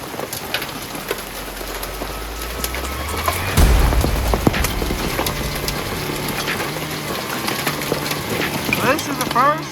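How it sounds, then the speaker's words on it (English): Heavy rain drums steadily on a campsite during a thunderstorm on an off-road camping trip. The dense patter continues while people talk nearby. "And the rain has finally caught up to us."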